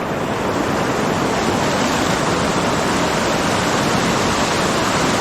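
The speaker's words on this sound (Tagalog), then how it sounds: "Ito yung malaking ilog." A loud, steady roar of rushing water from a large river in flood, with floodwater coming from Banahaw, continuous and unbroken with no voices.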